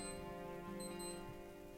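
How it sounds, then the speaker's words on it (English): A Casio LF-20W digital watch gives off a faint, steady electronic beeping tone that holds continuously and alone, sounding thin and quiet. "press the search button and hold, so it will make this beeping sound"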